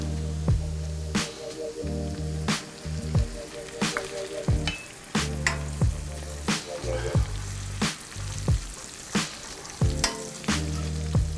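Capers sizzling in a hot pan alongside seared scallops, a steady crackling fry punctuated by regular sharp clinks of a utensil against the pan, close and fairly loud with no voices.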